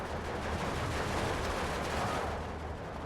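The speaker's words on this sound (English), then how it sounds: "Mortars coming in." Mortar rounds and gunfire in Steel Division 2 blend into a dense, continuous rumble of rapid shots and explosions, steady and moderately loud throughout with no talk.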